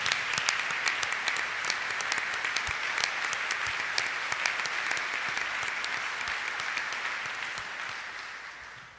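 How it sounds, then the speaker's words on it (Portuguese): Congregation at a Catholic Mass applauding steadily after the Gospel reading, a dense, sustained clapping that carries on without voices and slowly fades toward the end. "Vamos aplaudir a palavra de Deus?"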